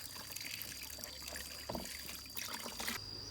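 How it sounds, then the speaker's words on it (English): Water runs steadily from a tap over a watermelon being washed in a sink, a continuous close splashing rush with a few brief louder spurts near the end. "wash it under running water to wash away dirt and impurities on the surface"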